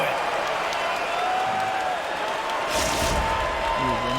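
Crowd roaring in an EA Sports hockey video game during a shootout, a loud continuous cheer that swells midway, with a voice talking over it at the end.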